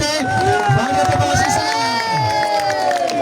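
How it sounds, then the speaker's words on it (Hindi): Crowd at a local cricket league prize distribution ceremony cheers, whoops and shouts for the champion team, loud excited voices and children's yells blending into a lively roar with scattered clapping. "आखिरी और शायकीन क्रिकेट चैंपियन टीम के लिए एक मरतबा जोरदार तालियां भी बजा दें।"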